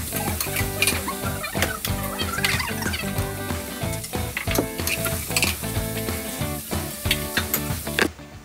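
Steady hot-oil sizzle of pumpkin being tempered, with occasional stirring clatter and scraping, fairly close and continuous, no voices.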